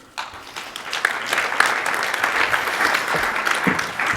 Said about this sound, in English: Applaud for you.